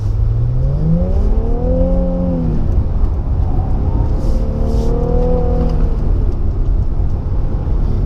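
A 2016 Infiniti Q50 Red Sport 400 drives through an autocross section, its engine rising and falling in pitch through the bends under a constant loud roar of road and cabin noise.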